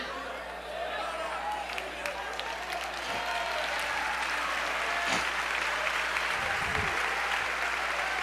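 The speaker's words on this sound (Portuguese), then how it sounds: "Pode aplaudi-lo mesmo" A congregation at a Baptist church service applauds steadily for several seconds, a broad wash of clapping that swells slightly toward the end, with a voice faintly underneath.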